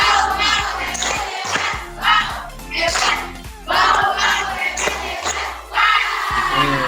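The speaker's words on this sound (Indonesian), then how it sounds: "Biar semangat gitu kita yel-yel dulu ya." Classroom of students chants a rhythmic group cheer with clapping, loud bursts of voices in repeated beats separated by short pauses, close and lively.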